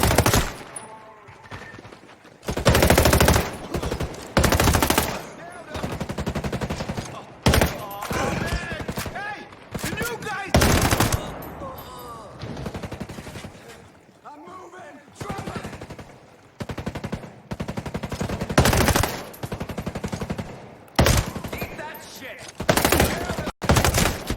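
Heavy bursts of automatic machine gun fire in the tactical shooter game Ghost Recon Breakpoint, loud and repeated in long stretches with short gaps between volleys, while players shout over the gunfire.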